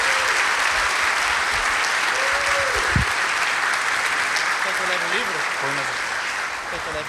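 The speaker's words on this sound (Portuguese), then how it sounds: "Uma salva de palmas para o André, por favor." Church congregation applauding during a worship service, a dense steady wash of clapping that fills the whole stretch, with a voice briefly heard over it.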